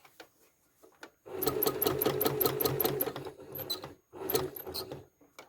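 A sewing machine quilting serpentine lines runs in two close bursts of rapid, rhythmic stitching, with a short pause between them and quiet handling clicks before and after.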